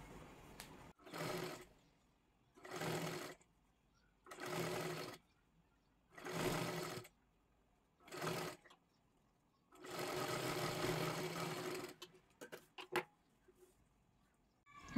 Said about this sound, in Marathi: इथे आपण पूर्ण शिलाई मारून घेतली